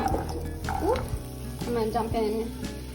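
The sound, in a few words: chopped potatoes frying in hot oil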